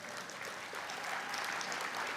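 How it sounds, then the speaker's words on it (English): A conference plenary audience applauds together, a steady broad wash of clapping that holds even throughout without voices. "give yourselves a round of applause"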